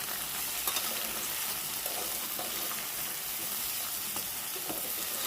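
Ridge gourd pieces cook in a pan under a steady, dense sizzle, with soft stirring scrapes now and then, close and fairly quiet, with no talking.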